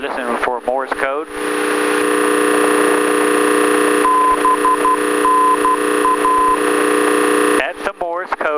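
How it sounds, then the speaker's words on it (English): A faint high-pitched tone beeps out the Nashville VORTAC Morse code identifier in short and long pulses over loud steady aircraft engine drone in flight, with voices talking before and after. "That's the Morse code for the Nashville VORTAC."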